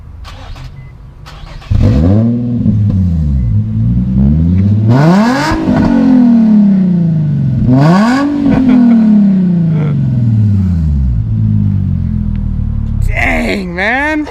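A car engine with its exhaust modified using washers revs loudly in repeated rising and falling surges, close and aggressive, with a brief idle before the first rev.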